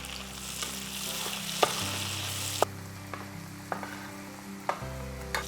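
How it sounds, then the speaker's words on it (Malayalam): Chopped tomatoes stirred in a hot frying pan for Kerala-style anchovy thoran, with a steady low sizzle and a few sharp spoon clacks against the pan, no talking. "തക്കാളി ഇട്ടിട്ട് നമുക്ക് ഇളക്കണം"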